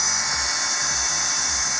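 An electric drill drives a pump pulling engine oil out of a Volvo Penta marine engine, making a continuous high whine with a steady buzzing hum, loud and close, and no speech.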